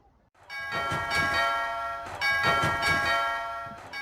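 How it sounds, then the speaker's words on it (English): A doorbell rings close by in the morning, two bright ding-dong chimes in a row, each tone sustaining and slowly fading, with no voices. "You woke up with the bell ringing in the light of the morning."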